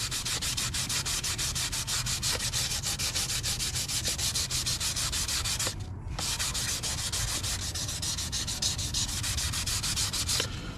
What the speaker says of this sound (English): I'm literally just sanding this